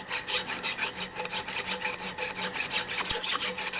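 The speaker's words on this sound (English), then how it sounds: "Just a little bit of a file here" A hand file is worked back and forth to knock burrs off metal edges, producing about twenty quick, even rasping strokes in a steady rhythm, close and clear with no talking.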